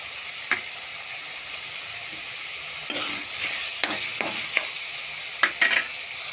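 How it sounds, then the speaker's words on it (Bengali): Spice masala for chicken curry is stir-fried in a pan, giving a continuous close sizzle broken by sharp scrapes and clanks of a spoon, several in quick succession near the end, with no voice. "কষতে থাকবো বন্ধুরা। মশলা একটু সময় লাগবে বন্ধুরা।"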